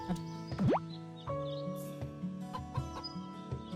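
In the Doraemon Story of Seasons farming game, a chicken gives soft, intermittent clucks with a quick rising squawk early on, over quiet, cheerful background music.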